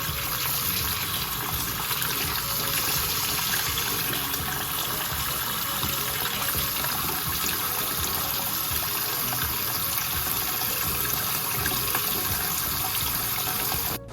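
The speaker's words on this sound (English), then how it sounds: "I'm going to run some cold water here to stop the cooking process." Cold tap water runs hard over freshly strained potatoes in a kitchen sink, a loud continuous gushing splash that stays steady for the whole stretch, with no talking.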